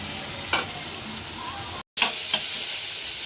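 Fresh tilapia pieces fry lightly in a pan with a soft, steady sizzle, broken by a few sharp spatula clicks and one brief dropout, quiet and close with no talking.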